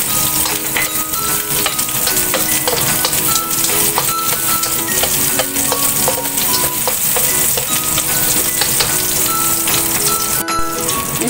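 Onions frying in a pan for a simple stir fry: a loud, dense, crackling sizzle that runs continuously up close, with scattered pops and a brief clatter near the end.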